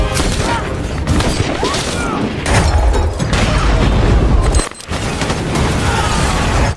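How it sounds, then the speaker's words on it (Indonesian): A bomb explosion and gunfire in a sniper war film: dense, loud bursts of booms and rapid shots crowd together nearly the whole time, with one brief gap before the barrage resumes. "Andre segera menekan tombol pemicu bom untuk menghabisi musuh yang berusaha memasuki area pos penjagaan"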